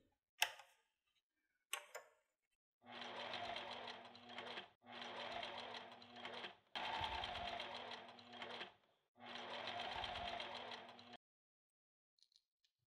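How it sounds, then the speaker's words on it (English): A sewing machine stitches down folded-over strapping ends in four steady bursts of rapid whirring, each a couple of seconds long with brief pauses, preceded by a couple of sharp clicks and heard close with no talking. "The ends are folded over and sewed down firmly."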